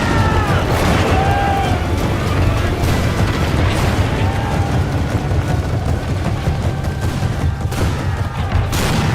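Dense, continuous video game battle din of rapid rifle fire and booming cannon blasts from an Anglo-Zulu War battle in Total War, loud and sustained throughout, with faint shouting buried in the mix.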